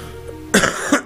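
A couple of rough coughs and throat-rasping sounds burst out after a quiet start, close and fairly loud.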